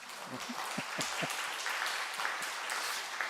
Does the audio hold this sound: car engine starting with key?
no